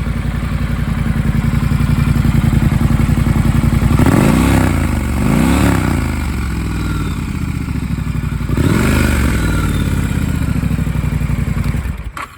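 A 2019 Triumph Scrambler 1200 XE engine running at idle, loud and close, with a steady throb and two rising revs partway through, then a clatter at the very end.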